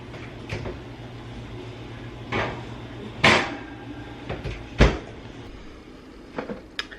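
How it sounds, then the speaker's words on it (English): An oven door is shut after a covered dish goes back in, one of several sharp close kitchen bumps and clatters spread across a quiet room. "I'm going to cover and put this back in the oven with the oven light on"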